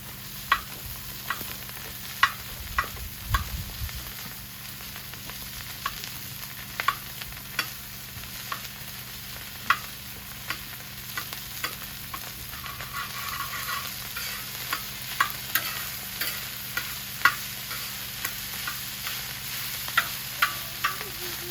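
Butter sizzling in a hot pan while wild duck fried rice is cooked, a steady soft crackle with frequent small pops and utensil scrapes throughout, close and moderately quiet, no talking.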